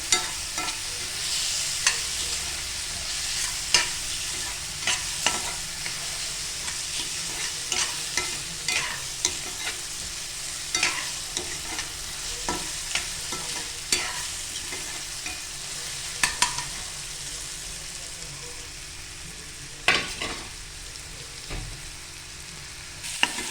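Spices with turmeric and salt being stirred and sautéed in a pan for paneer kheema, giving a steady close sizzle with frequent spoon scrapes and clicks against the pan throughout, no talking.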